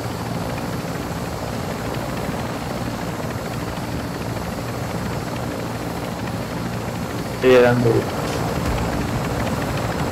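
Steady broadband rotor drone of a helicopter in the shooter game Call of Duty: Warzone 2.0, constant throughout with a brief louder burst near the end, under a player's short spoken line.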